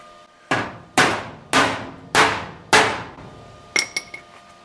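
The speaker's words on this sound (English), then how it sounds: "I'm just gonna wallop that with the hammer just to see what happens." A hammer strikes a welded steel front fender on a 1937 Zephyr in a home garage with five loud, evenly spaced ringing blows, followed by a few lighter metallic clinks.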